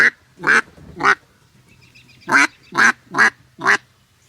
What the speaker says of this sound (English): It's a single reed call, but it's a good mellow,